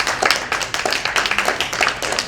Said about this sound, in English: how about giving these guys a nice round of applause?